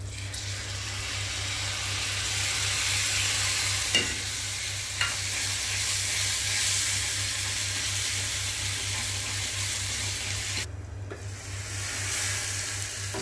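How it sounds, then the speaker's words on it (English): Masala of ginger garlic paste and grated tomato sizzles and frys steadily in a pan for a Kerala barracuda fish curry, with a few soft stirring knocks over the continuous crackle. "Now on this we'll put the ginger garlic paste. Now we'll add this grated tomato."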